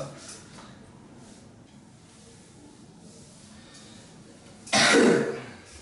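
A single short cough bursts out near the end, loud and close, after a stretch of quiet room noise.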